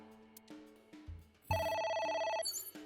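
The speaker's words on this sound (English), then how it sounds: "The phone again. Okay. It's ringing again." Telephone ringing in the video game AI The Somnium Files: a loud, steady electronic ring with a rapid warbling pulse starts partway through and holds for about a second, following quieter game sounds and music.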